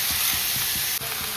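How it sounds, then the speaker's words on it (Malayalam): Boneless chicken for chicken ribbon rice sautés in a pan, with a steady, close sizzle and rhythmic stirring scrapes repeating about every quarter second. "ചിക്കൻ നല്ലതായിട്ട് സോട്ട് ചെയ്തെടുക്കുക."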